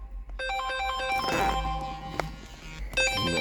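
A phone ringtone plays during remote key programming for a 2006–2012 Land Rover LR2: a bright electronic melody of repeating tones, clear and close, briefly broken before resuming.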